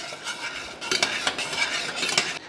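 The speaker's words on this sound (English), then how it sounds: "And so then we stir it in." A spoon stirs water, dark rum and sugar together in a pan for cake syrup, with several close, quick scraping and clinking strokes against the metal, loud and with no voices.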